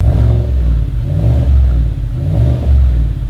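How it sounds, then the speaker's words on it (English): A Flowmaster chambered muffler on a truck or American muscle car gives a deep, steady exhaust rumble as the engine revs, with low throbbing swells rising and falling close by. "you slap a Flowmaster on there and it gives you a nice clean rumble"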